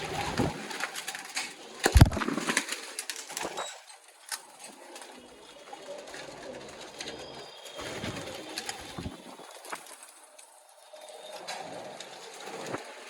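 Pigeons coo amid the bustle of a bird market in Malerkotla, Punjab, soft murmuring calls mixed with scattered clatter and bumps of handling nearby.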